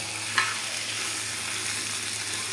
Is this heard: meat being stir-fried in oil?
yes